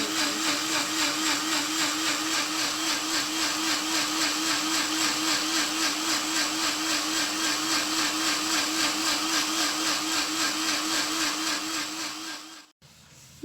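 A blender runs loud and steady, grinding chopped cucumber with water in a sealed jug, its motor holding a constant whine before cutting off abruptly near the end.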